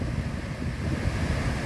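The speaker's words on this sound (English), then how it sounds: "let's take a better look at the waterfall as it drops into this slot" The Great Falls of the Passaic River pour into a narrow slot in basalt bedrock, giving a steady, broad low roar that holds evenly without a break.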